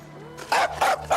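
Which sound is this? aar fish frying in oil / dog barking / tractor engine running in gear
dog barking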